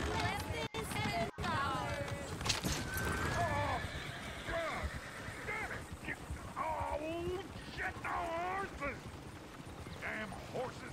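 Horse hooves clip-clop and horses whinny repeatedly in the Red Dead Redemption 2 video game, several neighs rising over steady hoofbeats, with people talking in the background.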